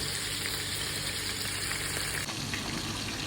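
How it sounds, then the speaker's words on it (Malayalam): Chicken pieces fry in hot oil in a pan for mandi, giving a soft, steady sizzle and crackle that stays faint and even throughout, with no talking. "ബാക്കിയുള്ള ചിക്കനും കൂടി നമുക്ക് വറുത്തെടുക്കണം"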